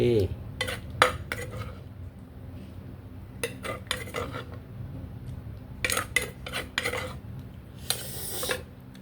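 Star gooseberry (mayom) salad being pounded and mixed in a mortar, with repeated clinking, scraping knocks in uneven bursts over a low background hum, close up, with no talk.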